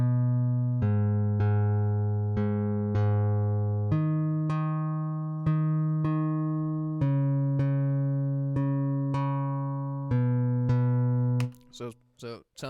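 Synthesized melodic notes at a beat-making session, played one after another with sharp attacks and decaying harmonics in a steady rhythm, ending in a brief garbled burst.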